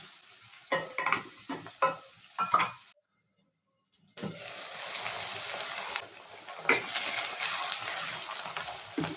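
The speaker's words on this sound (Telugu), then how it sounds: "స్టవ్ మీడియం ఫ్లేమ్లో పెట్టుకుని వేపుకోవాలి" Frying in a pan over a medium flame, with a few bursts of stirring and scraping, a short silent gap, then a steady, fairly loud sizzle with occasional clinks.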